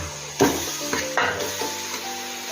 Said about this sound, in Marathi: आणि आता आपण चिकन टाकू.